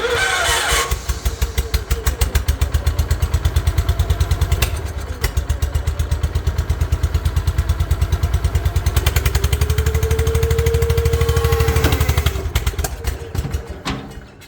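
A lawn tractor's small engine running loud and close for the whole stretch, a steady fast putter that clatters harder as it starts, then dies away at the very end.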